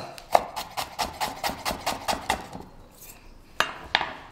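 Knife finely chopping pear on a board in a steady run of about a dozen quick, crisp taps, then a brief pause and two sharper cuts.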